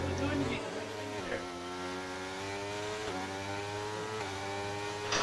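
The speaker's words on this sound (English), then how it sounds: "Just listen to the engine, and flat out it was." Race car engine in a racing video game at the Abu Dhabi circuit, running flat out and loud, pitch climbing steadily through each gear before dropping at three quick upshifts, with the roar continuous throughout.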